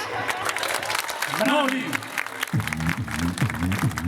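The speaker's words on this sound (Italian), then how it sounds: "Potete fare un applauso, sono gratis!" Audience applause at an Italian stand-up comedy show, a lively clapping crowd heard under a voice and a shout of praise, the clapping continuing steadily as he speaks.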